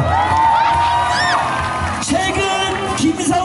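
A baseball stadium crowd cheers loudly during a post-game hero interview, with whoops and shouts rising over a constant roar, and voices talking through it.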